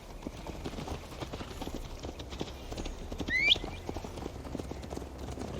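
Horse hooves gallop in Assassin's Creed Valhalla, a steady, fast clip-clop that continues throughout over a low rumble, with a brief high chirp partway through.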